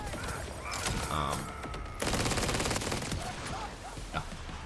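The Vex minigun fires dense, rapid bursts in Borderlands 4, loud and continuous with brief pauses, layered with impacts and game effects.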